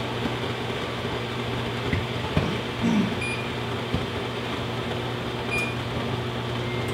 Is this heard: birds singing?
no